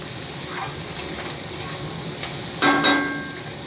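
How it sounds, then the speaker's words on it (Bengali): A kitchen chimney hood runs with a steady broad hiss while food fries in two pans on the stove, with a soft sizzle, a few faint clinks and a brief louder clatter near the end. "যদি আওয়াজ পাই, চিমনি চলছে, চিমনির আওয়াজ"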